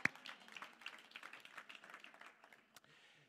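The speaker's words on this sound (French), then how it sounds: "On peut applaudir Jésus" Applause in a church service: many hands clapping at a steady quiet patter, distant and soft, fading slightly toward the end after a sharp first clap.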